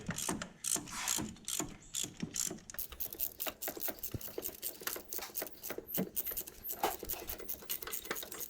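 A ratchet on a long extension tightens the top gearbox bolts during a 1UZ-FE engine swap into a 2003 Toyota Hilux 4x4, a quick run of close, crisp clicks that keeps a steady rhythm.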